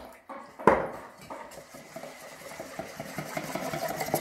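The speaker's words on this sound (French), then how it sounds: "Allez, on mélange énergiquement pour enlever les grumeaux." Flour and water whisked vigorously in a bowl to break up lumps, a sharp clink at the start and then fast, rhythmic metallic scraping and tapping, close by with no talking.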